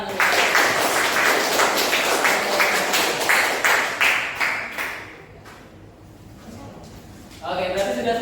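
Classroom students clap together in a loud, dense burst of applause mixed with voices, fading out after a few seconds before another round of clapping starts.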